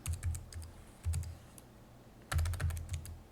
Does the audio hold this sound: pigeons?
no